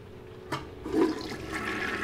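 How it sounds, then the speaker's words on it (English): A toilet flushing in the video game Heavy Rain, a short gush and swirl of water swelling after a brief click and then draining steadily, close and alone. "God, that flushing sounds horrible."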